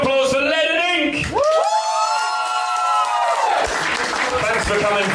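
An audience roars with cheering, whoops and applause for the band at the end of a live gig. Loud, crowded shouts rise and fall over steady clapping throughout.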